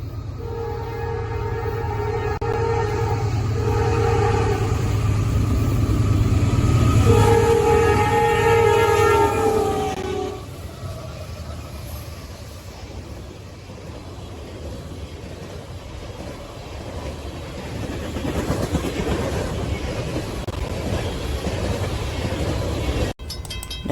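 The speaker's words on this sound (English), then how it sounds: "Next we have CSX B728 with CSX 7929 lead second." CSX freight B728 led by locomotive 7929, with an XLMS-8 unit second, sounds several loud sustained horn blasts over a heavy rumble, then rolls past steadily with continuous wheel and car noise that fades to a rattle.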